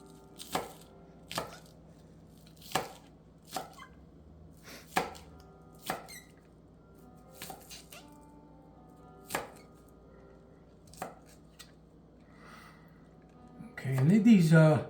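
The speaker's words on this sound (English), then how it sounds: "just to cut up the green onion or scallions" A knife slices green onions (scallions) on a cutting board with about a dozen crisp, separate chops at an uneven pace, close and clear in a quiet room, ending in a brief burst of louder noise.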